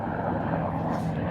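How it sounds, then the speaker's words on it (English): A Coast Guard helicopter heads out over the coast at Tarpon Springs, Florida, its engine and rotors making a steady, broad droning rumble that holds even throughout, with no voices over it. "Big Coast Guard helicopter going out there."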